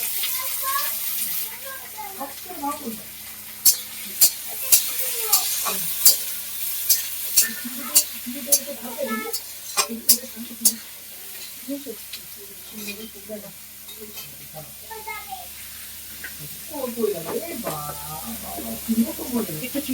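Chopped onions fry in a pan for Bengali-style ghugni, a continuous crackling sizzle with sharp spatters and stirring, heard under someone talking.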